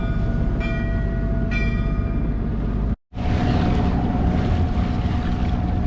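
A boat travels through the Hell's Gate tidal strait near New York City, with loud, steady engine drone and rushing water filling the clip, broken by a brief dropout in the middle.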